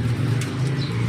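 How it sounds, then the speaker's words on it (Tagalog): Racing pigeons coming in to their loft after a mid-distance race from Concepcion, Tarlac: a low, steady cooing hum sits under the whole moment, with a few faint higher chirps and no voices. "So ito, nagdadatingan na yung mga ibon natin."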